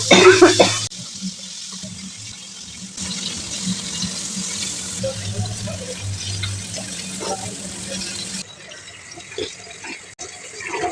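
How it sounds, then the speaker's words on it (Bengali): Red cabbage pakora frying in hot oil, a steady watery sizzle with bubbling that runs through most of the clip at close range, with a few louder clatters near the start and end. "তেলটা গরম হয়ে গেছে এখন আমি এগুলো দিয়ে দেব"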